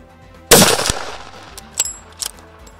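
A rifle fires during a Nile buffalo hunt in Uganda: one loud sharp blast with a brief decay, then two fainter clicks or knocks afterward, no talk.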